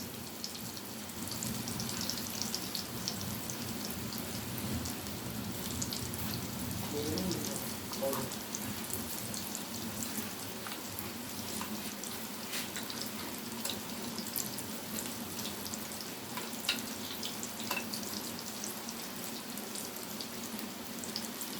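Chicken cutlets fry in oil in a pan, a steady close hiss of sizzling that runs unbroken, with someone speaking now and then over it.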